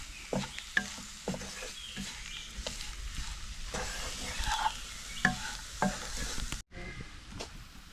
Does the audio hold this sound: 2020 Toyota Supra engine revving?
no